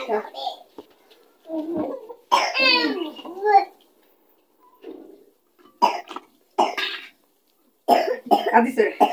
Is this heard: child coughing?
yes